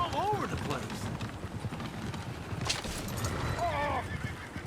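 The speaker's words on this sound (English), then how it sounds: "Oh, shit, the horses!" Horses in a Western town in Red Dead Redemption II whinny with rising and falling cries at the start and again near the end, while hooves clip-clop steadily beneath busy background noise and voices.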